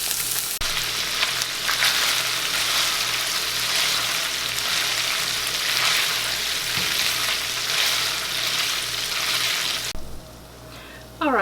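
Sausage browning in a pan sizzles and crackles steadily and loudly for about ten seconds before the sizzle suddenly drops to a quieter hiss.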